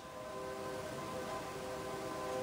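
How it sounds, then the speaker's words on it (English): A train passes close by on nearby railway tracks, a loud, steady rumble holding at one level throughout, with sustained horn-like tones riding over it and no talking. "Oh, that was a loud train."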